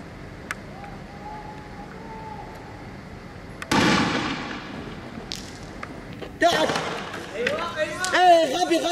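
Tear gas canisters fired by police breaking up a street protest in Nuwaidrat, Bahrain, two loud sharp bursts several seconds apart, followed by hissing and shouting voices.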